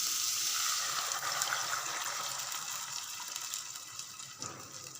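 Second coconut milk poured into a sizzling egg curry pan, a steady liquid gush hissing against the hot base and gradually settling into a softer bubbling simmer, close up with no talking.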